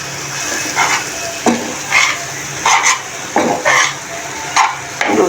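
Noodles with shredded meat stirred in a pan for an afternoon snack, rhythmic bursts of sizzling and scraping about once a second, close and without talk.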